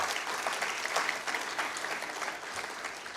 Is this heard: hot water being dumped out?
no